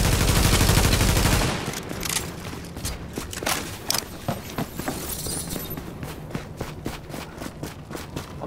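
Gunfire in The Division video game: a dense rapid burst opens, then single shots and short volleys snap out irregularly amid footsteps and mechanical clatter, loud and close.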